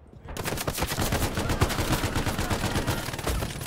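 Machine gun fire in a WWII video game battle at El Alamein, loud and near, with sustained rapid bursts that fill the whole stretch without any voices.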